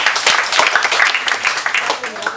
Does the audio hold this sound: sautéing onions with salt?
no